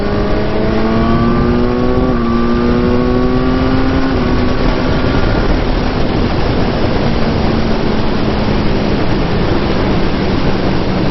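A motorcycle engine revs up hard as it accelerates to pass another vehicle on the road, a loud continuous drone climbing in pitch then levelling off under heavy wind rush.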